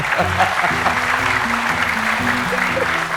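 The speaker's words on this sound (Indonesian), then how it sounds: "Tepuk tangan untuk Syekh Ali Jaber" A studio audience on the Indonesian television show Hafiz Indonesia applauds for Sheikh Ali Jaber, a steady spread of clapping running throughout beneath voices and tonal background sound.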